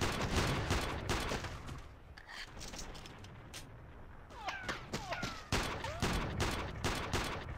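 Gunfire in the Iron Storm first-person shooter: scattered bursts of shots and impacts mixed with chaotic battle noise, loud and close, with a quieter lull midway before more rapid shots.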